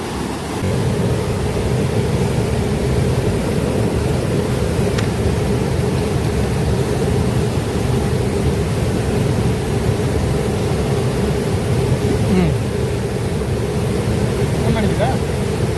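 Heavy rushing water of the Tungabhadra river, a loud, steady broadband roar that holds unbroken throughout with no pauses, close and dominant, wind-like in texture.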